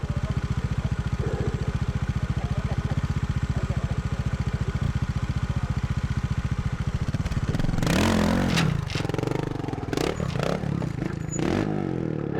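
A 1982 Fantic 200 trials motorcycle idles with a steady close putter, then revs sharply as it climbs an obstacle, lifts into a wheelie and drops off the far side with clattering knocks.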